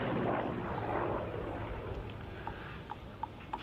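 Military aeroplane flying over the RAF Cosford airshow, a broad, steady engine roar that starts loud and fades slightly as it passes, with faint clicks near the end.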